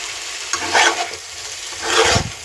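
Potatoes are fried in spice masala and stirred in a pan. Two separate scraping strokes of the spoon rise over a soft, steady sizzle.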